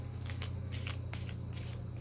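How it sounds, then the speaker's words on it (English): A deck of tarot cards is shuffled rapidly and close up, giving a dense, rhythmic riffling with short bursts over a steady low hum. "Shuffling like a crazy person."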